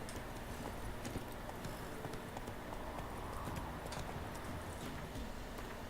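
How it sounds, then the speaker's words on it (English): Horse hooves clip-clop steadily in The Witcher 3 video game, a continuous rhythmic gallop of game sound effects, moderately loud, with no talking over it. "Horsey, let's go."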